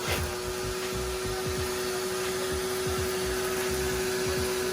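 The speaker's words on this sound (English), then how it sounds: "So yeah, I'm gonna get right into vacuuming." Vacuum cleaner pulling pet hair from the carpet of an SUV interior, a continuous loud suction whine with rough, scraping bursts as the nozzle works the fibers, no talking.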